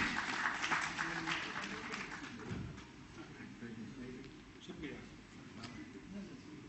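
Audience applause at a safety convention honoring a Delhi Metro station project team, a steady broadband clapping wash that is loudest at the start and then thins. A voice speaks over it near the end.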